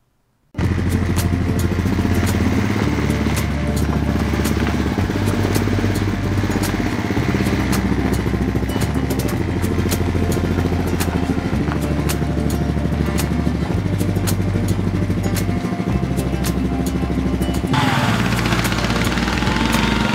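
A small outboard boat motor idles loudly and steadily, its throttle rising and falling in uneven pulses, with a shift in pitch near the end.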